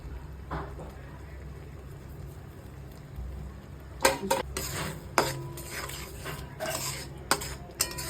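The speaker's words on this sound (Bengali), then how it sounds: "এবার আমি অল্প করে ধনে পাতা কুচি দিয়ে দিলাম ডালের মধ্যে" A pot of dal with chopped coriander is stirred with a metal spoon: a quiet low hum at first, then clinking and scraping against the pot in irregular bursts, close by and without talk.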